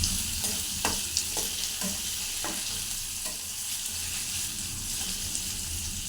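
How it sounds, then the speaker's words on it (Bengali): Chopped capsicum stir-fried in a pan for Korean ramen gives a steady close sizzle, with light scraping knocks from a spatula as it is stirred. "একটু হালকা ভাজা ভাজা করে নিই"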